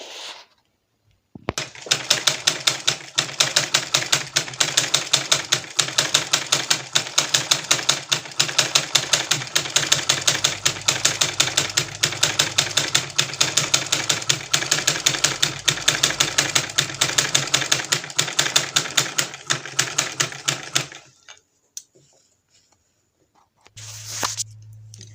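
Sewing machine stitching fabric for a katori blouse with a V-shaped panel, a rapid, steady mechanical clatter running about twenty seconds before stopping, close and loud.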